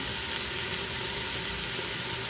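Vegetables frying on the sauté setting inside an Instant Pot, a dense, even sizzle that holds steady and fairly loud throughout, close up and with no one talking.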